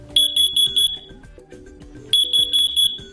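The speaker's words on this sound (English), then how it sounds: "When an alarm is triggered, you'll hear a loud 85 decibel T3 pattern chirp to alert you." A loud, shrill 85-decibel carbon monoxide alarm beeps in a T3 pattern: two bursts of four quick tones separated by a pause, with a low background hum underneath.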